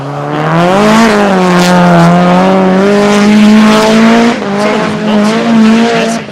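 A high-horsepower drift car on its second qualifying lap at a KIR Drift Championship round roars loud and close, its engine note holding steady then rising and falling, with tires squealing through the slide.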